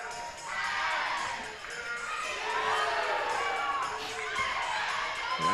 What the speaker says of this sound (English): They're going to see if they can out-cheer the Big Blue fans